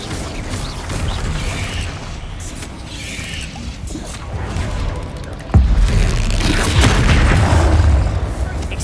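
Spell blasts like Confringo and Glacius boom and crackle in Hogwarts Legacy, a rumbling stream of magical impacts with a heavy hit midway, while a voice shouts over the noise.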